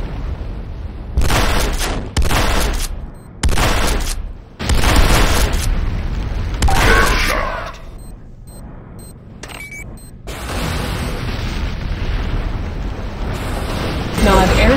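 C4 charges detonating and destroying the Nod airstrip in the shooter game Renegade, a run of loud, close booming blasts in quick succession followed by rumbling debris and game announcer voice cues.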